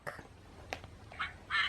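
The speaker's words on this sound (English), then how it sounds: "那中文是鸭子是呱呱呱，那英文是呱呱呱" A recorded duck quacks from a farm animal sound book, several short, faint, nasal quacks in an uneven sequence against low background noise.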